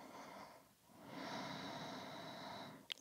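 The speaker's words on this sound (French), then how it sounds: "cette petite respiration qui ronflotte dans le fond de la gorge" Ujjayi breathing, a soft snoring breath drawn through the throat, is heard up close and quiet, with a short rasping inhale, a pause, then a longer steady breath and a small click at the end.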